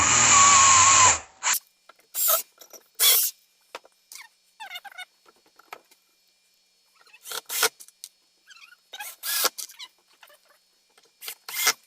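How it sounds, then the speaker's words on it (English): A power drill whirs in one sustained burst, followed by scattered short clicks and scraping knocks of handling. "Now I can put my other pre-drill holes in."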